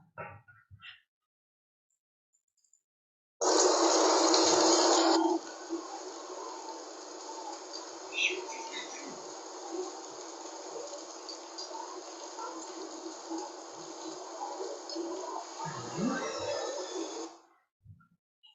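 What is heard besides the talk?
autumn rain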